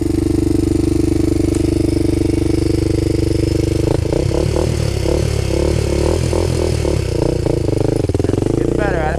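A Honda 400ex ATV engine pulls in second gear under a steady, rolling throttle, its loud, close, buzzing drone rising and pulsing with rhythmic revs, with a rider's voice heard over the engine.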